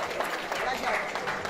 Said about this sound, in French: Merci d'applaudir Paul Charlène